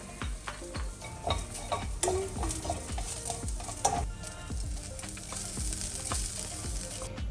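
Crispy pork belly and garlic stir-fried in a hot pan, giving a loud continuous sizzle with rhythmic scraping and clinking strokes of the utensil close by; nobody speaks.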